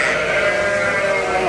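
Older ewes in a flock on a farm bleat in a continuous, loud, overlapping chorus of wavering calls, heard close up with no talk over them.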